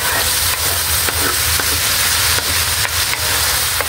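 Balbacua stew cooking in a pot, a loud, continuous bubbling sizzle with occasional scraping knocks as it is stirred.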